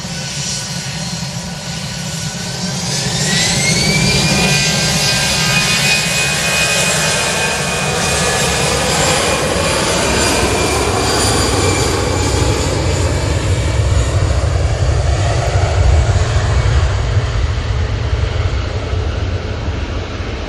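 Atlas Air Boeing 747 jet engines roar through a takeoff roll at Manchester Airport, a loud, sustained rumble with rising whine and gradual tonal sweeps that hold steady throughout, with no talking over it.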